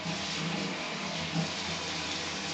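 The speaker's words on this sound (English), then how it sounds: "Give it a quick rinse through" Tap water runs steadily into a blender jug as it is rinsed, a constant close hiss and splash with no talking.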